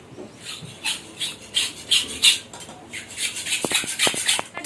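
Onions being cut with a knife in a home kitchen, a run of short rasping strokes that repeat at a fairly steady pace up close, followed by a few sharper taps against the board near the end.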